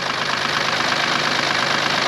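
A BMW diesel car engine idles just after new injectors were fitted, giving a loud, steady, close clatter with a continuous knocking rhythm and no talk.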